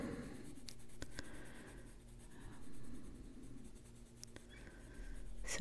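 Coloured pencils are applied to paper, giving quiet, continuous scratchy strokes with light taps, close and soft, and no one speaking.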